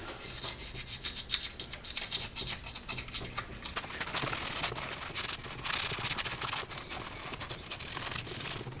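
A razor blade scrapes at a dried, flattened oil filter housing gasket on a BMW 335 N54, giving a continuous close rasping scrub that swells and eases without pause.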